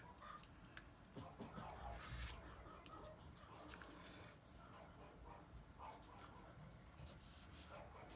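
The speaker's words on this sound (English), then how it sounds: "That's my dog's having a little bark up," A dog barks in short, fairly faint bursts somewhere off in the background of a garden, mixed with scuffing and rubbing noises close by.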